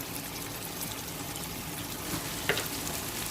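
Prawns frying in a pan as they are stirred, a steady close sizzle with a brief scraping clink partway through, no talking.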